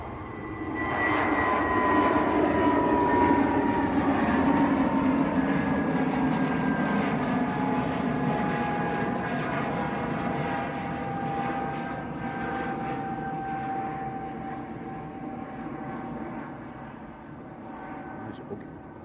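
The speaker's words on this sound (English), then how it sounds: "This is Lufthansa to Munich, an A320 Neo." A Lufthansa Airbus A320neo jet bound for Munich at Manchester Airport roars loudly and steadily for about twenty seconds, with engine whine tones slowly shifting in pitch as it passes, easing slightly toward the end.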